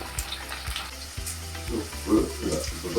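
Shallots, garlic, ginger, green chili and onion hit hot oil for a Kerala-style fish head curry, giving a close, steady sizzle with a few soft stirring knocks and rising bubbling toward the end.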